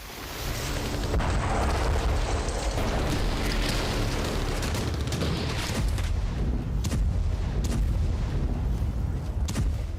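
Russian bombardment in Ukraine is heard as news footage: dense, continuous low rumbling and booming blasts with scattered sharp bangs, loud and sustained throughout, with no talking.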